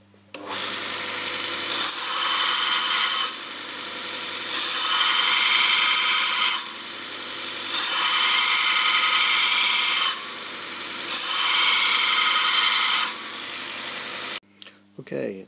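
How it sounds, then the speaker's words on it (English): A belt sander grinds metal in four long, loud bursts separated by short pauses, a steady abrasive whine that cuts off sharply each time. "a bit more belt sanding"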